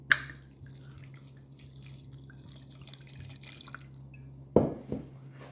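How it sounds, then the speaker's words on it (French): Vinegar splashes into a pan with a short, close liquid pour near the end, after a quiet stretch of faint kitchen hum and light drips, while shallot and tarragon are prepared for a reduction. "Je vais mettre mon vinaigre."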